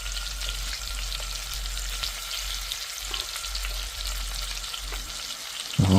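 Beef short ribs sizzle steadily in a stovetop pot, a dense continuous crackle of hot oil held close and even, ending with a brief louder clunk.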